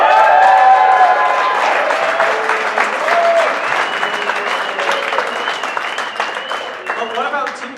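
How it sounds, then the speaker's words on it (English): Audience applause at a university physics show, loud sustained clapping from a crowd that rises at once and slowly tapers, with a voice heard faintly over the noise. "For Team David, put your hands together."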